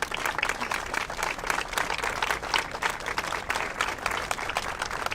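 Steady, dense applause from a crowd at a Brussels gathering on solidarity with migrants, continuous and moderately distant for the whole stretch with no talk over it.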